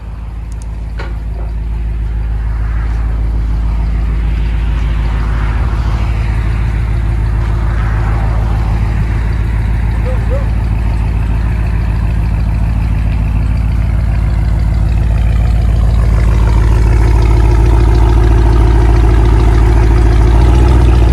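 A Dodge Ram Power Wagon's 6.4-liter Hemi V8 rumbles through its exhaust at a deep, steady idle, loud and close, gradually building slightly in level.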